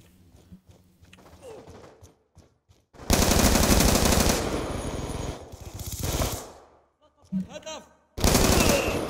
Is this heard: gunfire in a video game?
yes